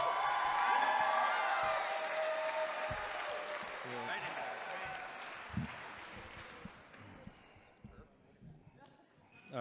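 Wedding guests applaud and cheer for the father of the bride at a reception, a dense, loud burst of clapping that gradually fades over several seconds into scattered claps and voices.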